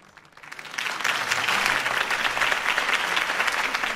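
A large crowd bursts into sustained applause and cheering at a political campaign rally in the Batman: The Telltale Series video game, swelling after a moment and staying loud and dense throughout.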